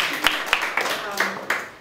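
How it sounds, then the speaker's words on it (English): A small group at a History Day school session gives a brief, sparse round of applause, a handful of distinct claps spaced out over under two seconds, fairly close and modest in volume. "a round of applause for you."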